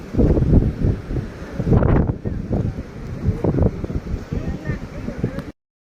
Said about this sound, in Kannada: ಇಲ್ಲಿ ನೋಡ್ರಿ ಎಷ್ಟು ಗಾಳಿ ಐತೆ ನೋಡ್ರಿ